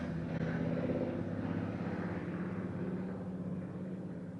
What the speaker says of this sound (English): Gotta love motorcycles